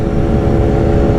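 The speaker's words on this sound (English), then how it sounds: "what you will hear, is a loud-ass Brock's Performance full titanium exhaust CT megaphone" A Kawasaki Ninja H2 motorcycle fitted with a Brock's Performance full titanium CT megaphone exhaust rumbles loudly and steadily up close, a deep, constant engine drone with no voices.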